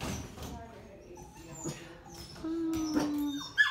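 A pet dog whimpers and gives soft, thin yips in short, wavering bursts close by, with a few high squeaky cries toward the end under light background noise.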